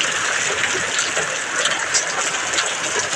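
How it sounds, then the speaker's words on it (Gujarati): Heavy rain mixed with small white hailstones pours down in Dhandhuka, filling a rooftop terrace. A loud, dense, unbroken roar of falling water carries faint scattered patters throughout. "ધંધુકામાં કરા સાથે વરસાદ"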